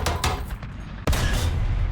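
Tank cannon shots ring out in War Thunder as a Fat Sherman fires at an enemy Churchill's barrel, two quick blasts and then a louder close boom with a rumbling tail.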